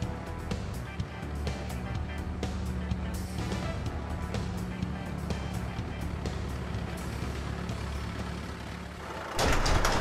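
A large concrete mixer truck with a big grey drum rumbles steadily nearby with a deep engine drone and clicks, ending in a sudden burst of broadband hiss like an air release.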